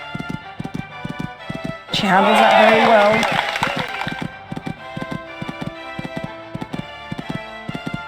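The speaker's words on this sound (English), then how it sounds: "This horse is jumping well for her." Horse hooves on turf during a cross-country jumping round at the Burghley Horse Trials, a steady run of close, rhythmic clip-clop beats with a louder rushing burst around the jump, under a commentator's talk.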